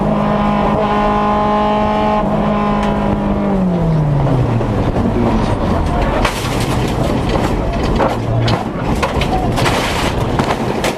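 Race car crash during a race, with an engine note winding down into a loud, chaotic rush of noise and impacts, dense and sustained, with faint voices in the background.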